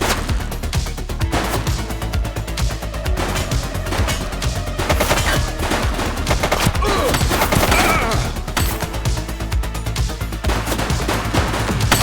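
Gunfire in a shoot-out in The Precinct, bursts of rapid shots and crackling fusillades layered over a dense, loud backdrop, continuing without a break for the whole stretch.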